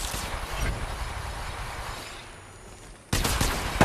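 Gunfire in the Apex Legends battle royale game, a dense burst of rapid shots and impacts in the opening seconds, a quieter lull, then a loud renewed burst near the end.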